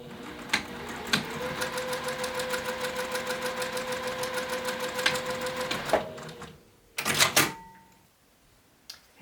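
A sewing machine runs a quarter-inch seam along the bottom edge of a zip coin pouch, a steady rapid stitching whir for several seconds with a brief reverse for the back stitch, then stopping, followed by a few clicks and handling sounds.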